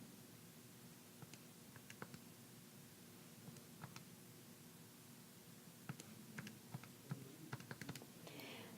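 Quiet, scattered taps of numbers being typed into a calculator or computer keyboard, irregular and close, over a faint steady hiss with a brief rustle at the end.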